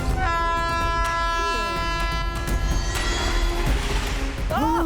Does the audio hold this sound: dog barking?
no